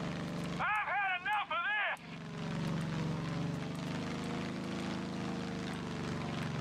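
A propeller aircraft flies in the video game Far Cry 5, its engine droning steadily and fairly loud throughout, with a brief burst of warbling, chirping tones over it near the start.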